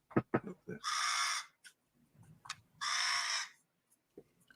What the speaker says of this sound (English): Is that a crow or something?